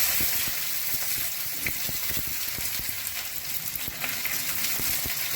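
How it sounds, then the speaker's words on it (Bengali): Chopped onion going into hot white oil already tempered with garam masala and butter, giving a dense, steady sizzle and crackle with small pops, close and loud throughout, no talking. "এবার আমি পেঁয়াজ কুচি দিয়ে দিচ্ছি"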